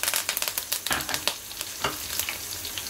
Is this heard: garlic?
yes